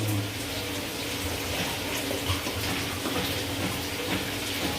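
Water pours in a steady, noisy rush as a bottle is filled with cold water in a home kitchen, continuous and close with no talking.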